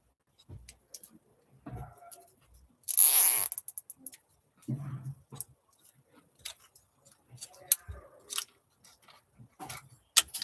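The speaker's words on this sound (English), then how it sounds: "Some more zip ties." Zip ties are ratcheted tight during a WPL C24 RC car build, with a loud burst of rapid zipping clicks followed by scattered taps, handling noises and small clicks.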